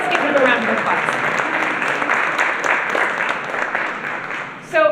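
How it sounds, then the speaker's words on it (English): Applause at a school assembly as staff stand to be recognised, a sustained moderately loud round of clapping from a large audience with some talk mixed in before it ends and a voice resumes. "And let's give them a round of applause."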